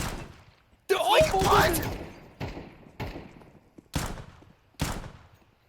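Rapid gunfire bursts from a Counter-Strike match, with the 5-7 pistol in play: a dense volley early, then several sharp separate shots at a steady spacing, loud and close, with a brief excited voice in between.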